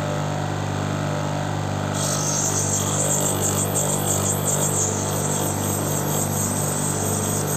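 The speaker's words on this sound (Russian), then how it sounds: "тонкая шлифовка лицевой части" A steady whirring grinding noise runs throughout as the face of a stone cabochon is fine-ground, turning brighter and higher after a couple of seconds, with no voices.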